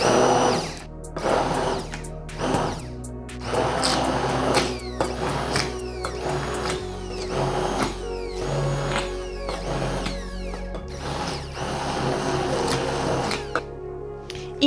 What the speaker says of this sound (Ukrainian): І продовжую перемішувати блендером до однорідності.